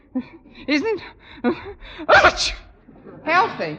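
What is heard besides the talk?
sneeze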